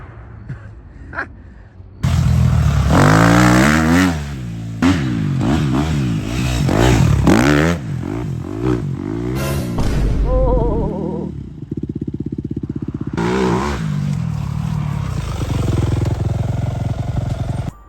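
A 250cc dirt bike engine revs hard and loud, rising and falling in repeated throttle blips close by, then settles into a rough idle before revving again.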